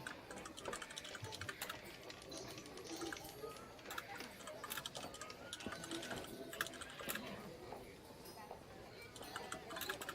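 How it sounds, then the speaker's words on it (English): Rapid, dense computer keyboard typing clatters steadily throughout, mixed with voices from a group tabletop game session. "intense typing action"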